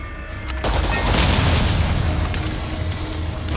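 An energy landmine-like object is shot and explodes in the video game Starfield, a sudden loud boom after a brief quiet moment, then a long rumbling roar that slowly fades.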